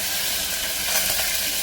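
Curry leaves, garlic, black pepper and cloves sizzle in hot oil with hing and cumin, a steady loud frying hiss that holds throughout with no pauses.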